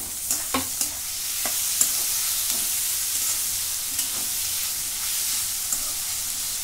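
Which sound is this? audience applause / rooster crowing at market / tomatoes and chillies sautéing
tomatoes and chillies sautéing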